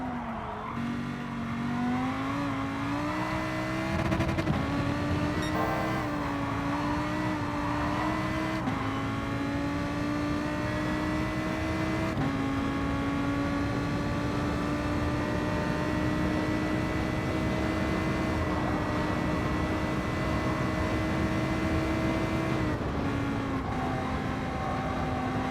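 Racing car in the Gran Turismo video game, played on a Logitech G923 Trueforce wheel: a loud, sustained engine drone rises and falls through gear shifts with occasional tire noise, no talking.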